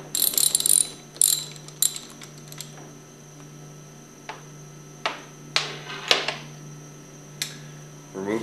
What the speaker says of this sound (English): remove these plungers by taking your 9/16 socket